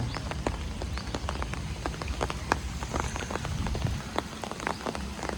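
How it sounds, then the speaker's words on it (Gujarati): Heavy monsoon rain pours down over a flooded housing society, a dense, continuous patter of drops striking water and hard surfaces, close and steady throughout. "અત્યારે વરસાદ ચાલુ જ છે।"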